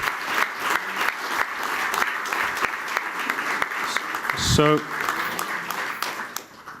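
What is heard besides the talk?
audience applause at logo unveiling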